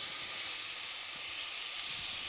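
Sliced onions, green chillies and cloves fry in oil with salt in a pan, giving a steady, close, even sizzling hiss throughout with no talk.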